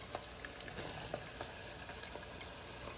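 Tomato simmering with chorizo and onion in a pot for frijoles puercos, a quiet low bubbling with soft scattered pops, steady throughout and without talk.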